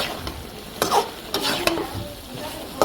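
Tilapia fish curry with beans being stirred and sautéed in a pan, a soft sizzle of frying under several sharp spatula scrapes and knocks against the pan.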